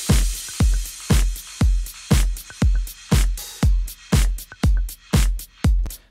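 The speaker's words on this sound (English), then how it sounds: "So I just recorded some hi-hats." Recorded hi-hat percussion plays in a steady pattern of crisp, bright metallic hits, roughly two per second with lighter ghost strokes between, loud and alone.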